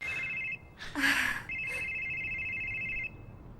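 A telephone rings with a steady electronic trill, pauses briefly amid a short burst of noise, then rings again before cutting off.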